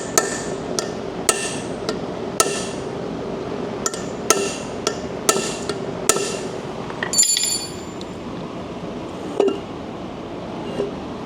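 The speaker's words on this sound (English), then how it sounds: "Bigger hammer." Hammer blows ring out on a part of a 2015 Tahoe with a 5.3 engine being driven through with a punch, about a dozen sharp metallic strikes spaced irregularly, near and fairly loud, with a brief clinking rattle midway.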